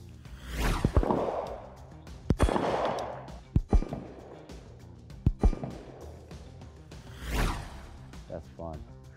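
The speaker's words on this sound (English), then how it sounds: "And that was all single action" Lionheart Industries Regulus pistol fired in single action at a range, several sharp, loud cracks spaced a second or two apart, with ringing echoes and muffled rustling between them.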